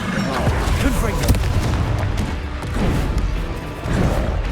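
Confringo fire-spell blasts during a boss fight in Hogwarts Legacy, a dense run of booming crashes and impacts layered with heavy combat noise, loud throughout, with voices in the mix.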